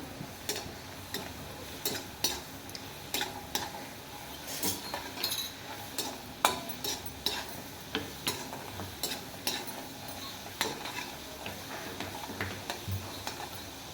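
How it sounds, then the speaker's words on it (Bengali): Crispy masala cashew snack pieces fry in oil with a low sizzle under a series of regular light clinks and taps of a utensil, close and moderately quiet. "লাল লাল করে ভেজে নিতে হবে।"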